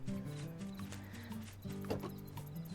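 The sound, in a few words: horse in the video game Harvest Moon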